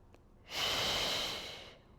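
A single deep breath during a Pilates mat exercise: a long, close, airy exhale swells in and holds steady for over a second before tapering off, heard alone in a quiet room.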